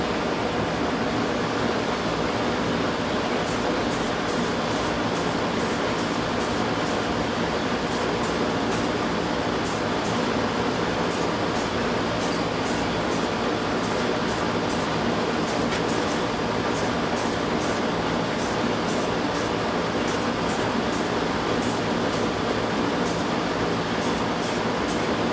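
A spray can mists paint in short, repeated hissing bursts over a steady background hiss while painting a handmade cage, fairly close and without talk.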